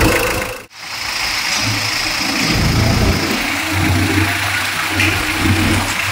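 A diesel engine in a customized Mitsubishi L300 runs steadily at idle, a loud continuous low rumble with a brief dip near the start.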